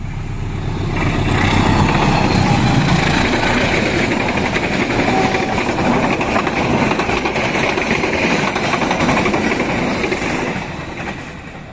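The Bangunkarta 161 passenger train rushes past at close range, a loud, sustained roar of wheels and carriages rumbling steadily for several seconds before easing off at the end.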